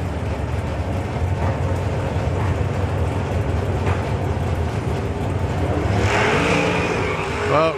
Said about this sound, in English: Tony blazes the tyres there